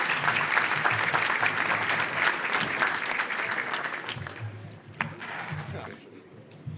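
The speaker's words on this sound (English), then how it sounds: "Give them a big round of applause for being here." Warm applause from an audience at a student human relations awards evening honoring young recipients, steady clapping that thins out after a few seconds, with voices murmuring underneath as it dies away.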